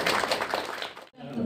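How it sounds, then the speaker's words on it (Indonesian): Audience applause at a 20th-anniversary event for the Indonesian film Kuldesak: a dense, steady wash of clapping that breaks off near the end, followed by a short stretch of room noise. "Tepuk tangan paling meriah buat Mbak Mira."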